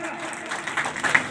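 Audience at a bhajan competition prize ceremony in Semri Harchand claps in a burst of applause, dense and moderately loud, with an announcer's voice heard over it.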